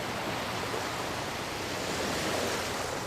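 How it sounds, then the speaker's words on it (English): Roiling ocean waves of the Rotano Sea near a windswept maritime city in the Final Fantasy XIV intro, a steady broad wash of surf that holds evenly loud throughout with no voices. "amidst the roiling waves of the Rotano Sea"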